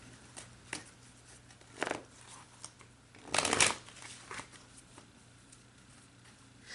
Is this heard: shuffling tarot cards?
yes